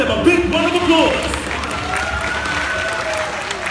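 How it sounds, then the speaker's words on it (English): Audience applause after the grand finale of a bird show at Jurong Bird Park in Singapore, a steady wash of clapping from the crowd, with a host's amplified voice speaking over it throughout. "Let's give them a big round of applause."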